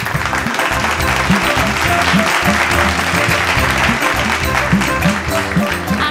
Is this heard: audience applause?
yes